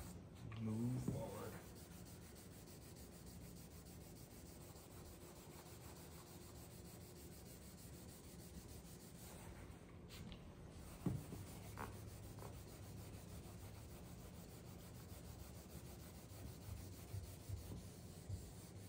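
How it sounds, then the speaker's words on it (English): Sandpaper rubs back and forth over the paint of a 1969 Chevy Chevelle SS 396 during wet sanding, a soft, continuous scrubbing hiss with a few faint knocks. "the surface is smooth and it's not grabbing the sandpaper like it was in the start"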